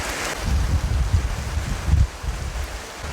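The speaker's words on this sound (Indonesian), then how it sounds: "Akhirnya hujan pun turun dengan sangat deras, ditambah dengan tiupan angin yang sangat kencang" Heavy rain pouring down with strong gusting wind at an outdoor temple celebration, a dense steady roar with low rumbling gusts, no voices.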